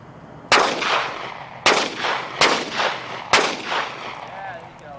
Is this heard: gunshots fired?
yes